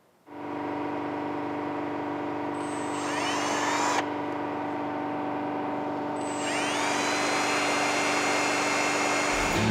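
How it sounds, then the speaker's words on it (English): A power drill bores holes through a metal motorcycle mounting plate during a Road King front end conversion, a steady close whirring that runs almost the whole time with rising pitch sweeps as the bit bites, and no talking. "So I'm gonna mark these holes and start drilling them out"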